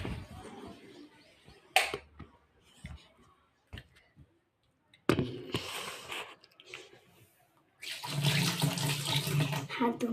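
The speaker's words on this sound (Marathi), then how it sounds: "हात धुवून घेतलेला आहे" Tap water runs while hands are washed, coming in separate bursts of rushing flow with quiet, scattered handling sounds in the gaps between them.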